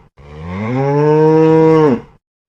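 A cow mooing on a farm, one long, loud, sustained low moo lasting under two seconds, close and alone, ending in a quick drop.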